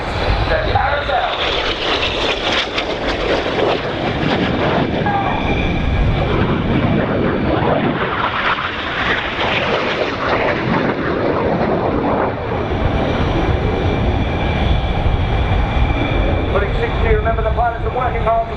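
Red Arrows jets performing the carousel crossing manoeuvre at RIAT 2016, a loud continuous roar of jet engines that swells and fades as the aircraft pass, with a commentator talking over it.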